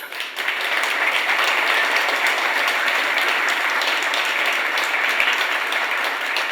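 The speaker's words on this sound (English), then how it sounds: "So please give them a round of applause." Audience applause at a design conference in Pittsburgh, a full steady wash of clapping from a crowd that rises quickly and continues evenly throughout.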